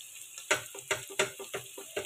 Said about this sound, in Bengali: আমি এখন খুব ভালো করে একটু ফ্রাই করে নিব হাই ফ্লেমে।